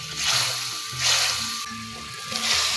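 Water splashed into a sizzling pan of soy chilli, a loud burst of frying hiss that swells and eases in repeated waves, with dull clanks from the pan underneath.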